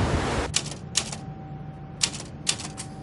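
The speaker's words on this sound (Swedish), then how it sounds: "Här ska jag sätta upp min skrivmaskin." Manual typewriter keys strike in a few sharp, separate clacks with uneven pauses between them, close by against a quiet room, followed by a faint thin whine.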